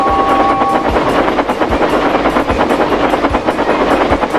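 A steam engine train rushes through a station with a loud, continuous roar and a steady rhythmic clatter of wheels, heard alone with no voices.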